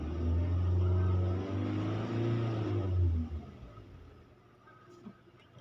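An engine revs under applied throttle, a loud low rumbling drone holding for about three seconds before dropping away to a faint idle hum.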